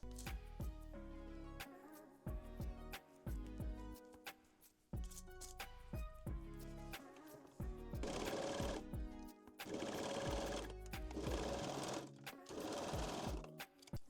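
Sewing machine running a straight stitch along underwear seams, in repeated short bursts and then longer continuous whirring runs, close and clear with no talking.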